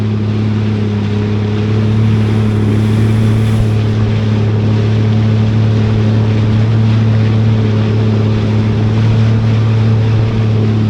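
A loud, steady engine drone with a deep hum, like a motorboat running close by, continuous throughout with water noise underneath and no talking.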